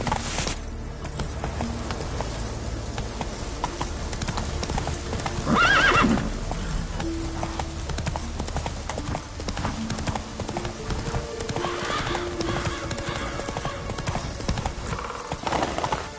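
Roach, the horse from the video game The Witcher 3, trots with steady rhythmic clip-clopping hooves and a whinny early on, close and continuous over ambient game sounds.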